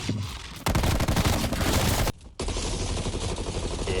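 Rapid automatic gunfire from a video game firefight, loud and sustained bursts that cut off briefly before resuming as continuous rattling fire.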